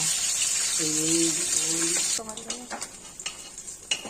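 Pona fish frying in oil gives a steady sizzle under a brief voice, then sharper clinks and scrapes as the pieces are moved in the pan, close and moderately loud.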